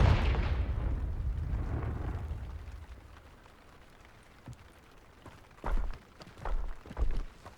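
Fiery Confringo spell blasts in the Hogwarts Legacy video game, a loud rumbling explosion that fades into quiet, followed by a few shorter thumping bursts near the end.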